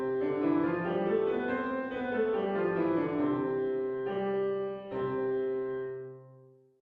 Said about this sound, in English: That was a major scale.